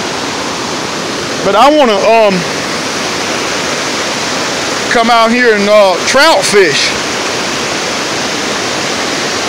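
Rushing water of the Nantahala River, a loud, steady broadband roar running throughout, with someone speaking briefly over it twice.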